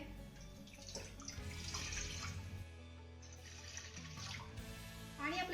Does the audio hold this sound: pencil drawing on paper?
no